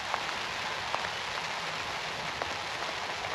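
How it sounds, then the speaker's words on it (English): Rain falls by a pond in a soft, even patter that stays constant and close throughout, with no voices. "It's starting to rain."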